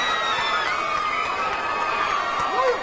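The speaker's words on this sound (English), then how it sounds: "You hear screams from the crowd." Crowd at a mixed martial arts fight screaming and cheering loudly and continuously, a dense roar of raised voices with shrill whoops rising near the end.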